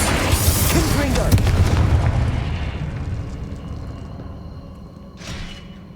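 A Confringo spell explosion in the game Hogwarts Legacy lands as a loud, deep blast that rumbles and slowly fades, followed by a brief whooshing burst near the end.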